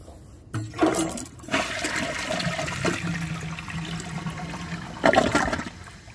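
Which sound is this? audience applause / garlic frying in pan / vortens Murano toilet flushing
vortens Murano toilet flushing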